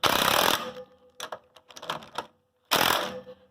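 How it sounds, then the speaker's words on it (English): Impact wrench driving nylon lock nuts on a Toyota 4Runner, loud rapid hammering bursts at the start and end with shorter stuttering rattles between, close by and alone. "we'll just use a little impact here and see how it does here"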